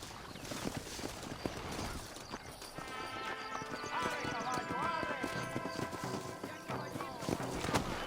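Steady clip-clop of horse hooves at a trot in the video game Red Dead Redemption, with a horse whinnying partway through and voices talking over the rhythm.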